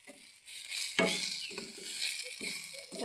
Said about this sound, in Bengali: এই দেখেন ভালো করে ভেজে নিতে হবে, আর আঁচটা একদম ধীরে রাখতে হবে